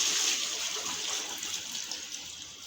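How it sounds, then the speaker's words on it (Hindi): Water gushes steadily from a bucket into a cooking pot holding potatoes outdoors, a loud continuous splashing pour heard close and alone for a few seconds. "तो इसमें मैं पानी शामिल कर देता हूँ।"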